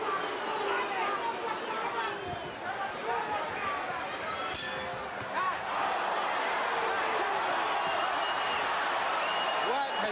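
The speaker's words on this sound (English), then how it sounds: "And you hear the crowd start to boo." A large arena crowd at a Mike Tyson boxing match boos and murmurs in a sustained, swelling din, with a commentator's voice talking over it.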